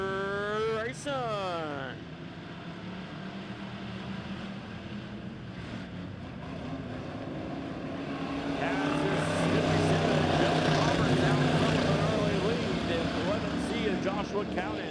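Pure stock race cars roar off the green flag at Lebanon Midway Speedway, a pack of engines droning together and swelling louder partway through as the field passes, with a commentator talking over the noise.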